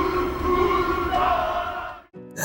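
A large rugby match crowd roars and boos in a loud, sustained swell that cuts out abruptly near the end.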